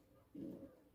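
A single short, soft, low coo from a pigeon, faint and heard close up for under half a second.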